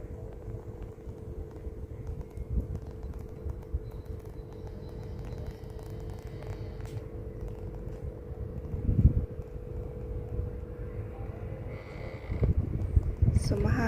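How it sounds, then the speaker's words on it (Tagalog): Steady wind buffets a microphone outdoors on a sunny day in Croatia, a continuous low rumble that swells into stronger gusts near the middle and again toward the end. "So, mahangin."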